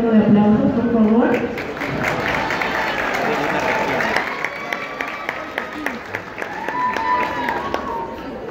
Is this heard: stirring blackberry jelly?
no